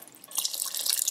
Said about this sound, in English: Maybe I'm gonna add a little bit of water.